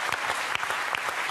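An audience at a French television variety show applauds, a brief burst of dense, continuous clapping with several sharp individual claps poking through.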